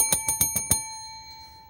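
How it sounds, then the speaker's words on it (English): A bell is rung for birthday announcements: five quick, bright metallic dings in a row that leave a clear ringing tone fading away afterward. "Ring that bell."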